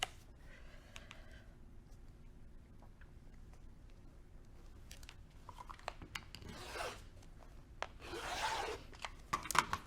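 Fabric for a quilt is being cut, giving soft scattered scraping and slicing sounds that grow into louder rasping strokes toward the end, quiet and close with no talk.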